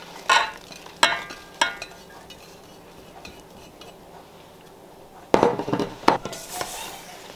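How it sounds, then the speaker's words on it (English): Folding bread cubes into a pineapple and egg mixture, several sharp scraping and knocking strokes of a utensil against a bowl, close, spaced out with a quieter pause before a busier cluster. "we're just gonna fold in our bread cubes"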